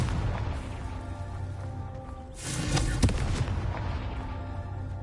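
A Confringo fire spell bursts in the video game Hogwarts Legacy, one loud explosive blast midway followed by a sharp crack and a rumbling decay over low ambient noise.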